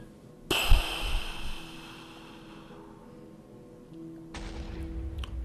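A TNT explosion in the video game Minecraft with an insane TNT mod, heard as a sudden loud blast that decays into a long hissing rumble, with a second burst following near the end.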